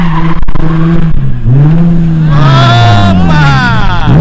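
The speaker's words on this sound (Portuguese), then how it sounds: "Ele tava querendo aprender a fazer drift" A car drifting with loud, close tire squeal that rises and falls in long sweeping wails over a revving engine, with voices faintly in the background.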